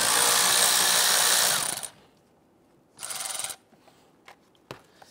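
Power driver loosening and removing 7mm screws on a 2011-2019 Ford Explorer fog light bracket, one long close whir followed by a shorter burst, then a few small clicks and taps.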